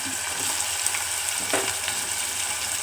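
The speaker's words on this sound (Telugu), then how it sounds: "ఆయిల్ హీట్ అయింది కాబట్టి ఆనియన్స్ని వేసుకోండి" Onions frying in hot oil in a pan, a loud, steady, close sizzle with faint stirring clatter throughout.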